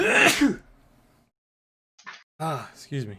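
A loud sneeze bursts out at the start, fading into quiet, followed by a short spoken apology.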